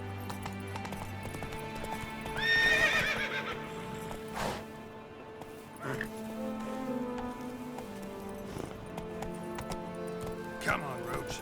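Roach, a horse in The Witcher 3, whinnies and clip-clops at a gallop with hoofbeats in irregular bursts and one clear neigh early on. Rain patters in the background and someone talks over it.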